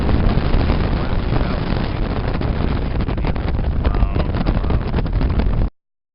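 A loud, steady large motor drones as a ferry moves along the Saigon River, with heavy wind buffeting the microphone, then the sound cuts off abruptly.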